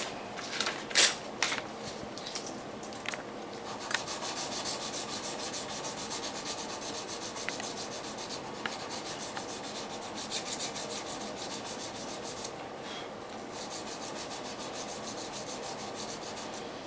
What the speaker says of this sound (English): now I can go to a little bit finer grit